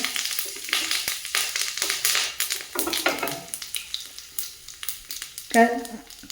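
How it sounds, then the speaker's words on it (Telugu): Mustard seeds, cumin, coriander seeds and curry leaves sizzle in hot oil as a tempering for peanut chutney, giving a close, busy crackle with sharp pops and brief stirring scrapes throughout. "కరివేపాకు, ధనియాలు, జీలకర్ర బాగా వేగినాయి, ఆవాలు చిటపటలాడుతున్నాయి."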